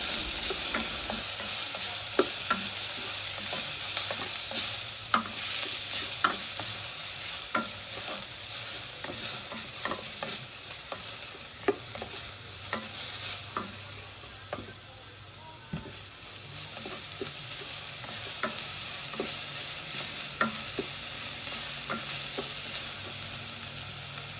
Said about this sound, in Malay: Kita tumis sampai naik bau.